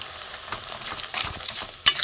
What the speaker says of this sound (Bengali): ধনে গুঁড়ো, জিরে গুঁড়ো, লাল লঙ্কার গুঁড়ো আমি এতে দিয়ে দেবো। একসাথে আমি কষে নেব।